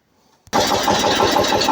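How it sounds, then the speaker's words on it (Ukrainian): A Kentavr 200V walk-behind tractor fitted with a potato digger attachment starts abruptly after near silence, then runs on at a loud, steady, close-up chug with no talking. "Зараз я його спробую завести, як воно буде працювати на тракторі."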